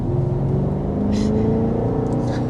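2026 BMW X6 M60 with a 4.4-liter twin-turbo V8 and mild hybrid: a steady, throaty engine drone with low rumble and a faint rising whine, continuous and fairly loud throughout.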